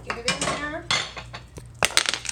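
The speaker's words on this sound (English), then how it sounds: "Scoop them right into my pot with the sauce." Food is scooped from a utensil into a pot of sauce for plant-based penne pasta, giving a few quick metallic clinks and soft wet plops over about two seconds, close by.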